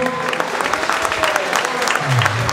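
An audience at a Portuguese community band event in London, Ontario applauds warmly, a dense, loud wash of clapping with voices mixed in and a low murmur toward the end.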